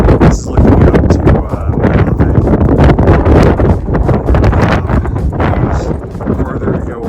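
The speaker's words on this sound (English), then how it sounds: "Windy, but it's always windy." Strong wind on a mountain ridge of the Pacific Crest Trail between Tehachapi and Kennedy Meadows buffets the microphone in a steady, heavy roar with gusty surges throughout, loud and close.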